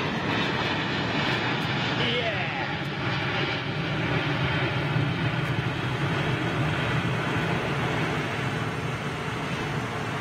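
Airbus A380 airliner at London Heathrow Airport, a steady broad jet engine roar holding loud and unbroken throughout, with a brief spoken word near the start.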